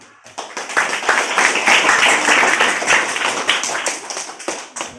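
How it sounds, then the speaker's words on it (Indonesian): Classroom of students clapping together after a discussion on social behaviour, a dense sustained burst of hand claps close by that swells then tapers off near the end. "Jadi tepuk tangan dulu."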